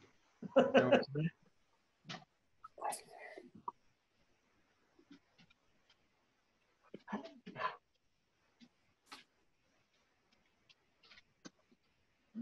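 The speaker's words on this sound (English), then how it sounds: "Everybody's commenting about your dog" A dog gives scattered whimpers and short barks at a quiet distance, separated by long silent gaps, with a few faint clicks and rustles in between.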